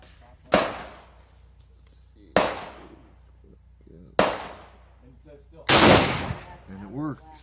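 An M48A Mauser rifle firing 1953 Turkish surplus 8mm ammunition gives four loud, sharp reports spaced about two seconds apart, each with a ringing decay, and a voice starts up briefly at the end.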